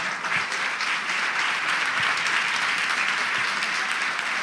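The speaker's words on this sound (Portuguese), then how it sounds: "Você tem que aplaudir Jesus." Steady, dense applause from a church congregation during a celebration service, loud and continuous throughout with no talking over it.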